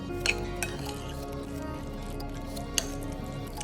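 Chicken gets mixed with mango barbecue sauce in a bowl, with soft wet squishing and stirring plus a couple of faint clinks against the bowl, quiet and close.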